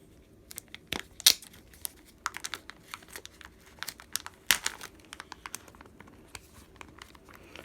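Packaging and tape are peeled and crinkled from around a collectible comic book. Close, irregular rustles and sharp tearing crackles come and go against a quiet room.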